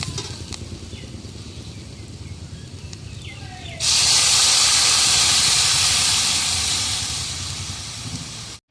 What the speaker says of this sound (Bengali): আলু কলার ঝোল ফুটছে